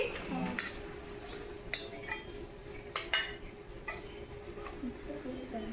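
Steel tiffin boxes and dishes clink and tap as a child's lunch box is filled at home. The clinks are light and scattered over a steady low kitchen hum, with no clear speech.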